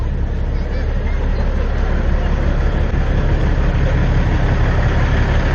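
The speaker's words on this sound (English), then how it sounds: "Got a Caterpillar engine in it, 550 horsepower." A retired truck's Caterpillar 550 horsepower diesel engine idles close by with a steady, loud, continuous low rumble that holds unchanged throughout.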